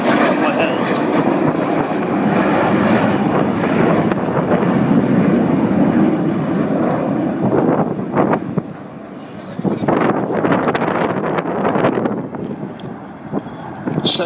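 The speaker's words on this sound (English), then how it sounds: "For the last few years there was just this one aircraft, this particular aircraft, that was called the Vulcan display flight" The Avro Vulcan XH558 jet bomber flies at an air display with a loud, sustained roar mixed with wind buffeting, and a voice speaks over it.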